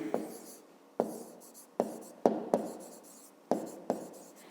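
A pen writes on paper while a fifth-grade math exercise is solved, making a series of short scratchy strokes. Each stroke starts with a sharp tap and fades quickly, and the marks come up close and clear at an uneven pace.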